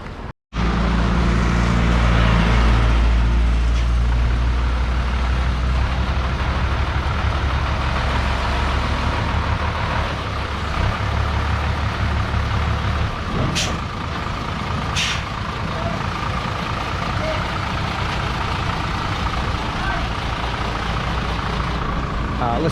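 A big truck idles steadily close by during a water tank delivery, its low engine rumble continuous throughout, with a couple of brief sharp hissing bursts partway through, likely from the air brakes.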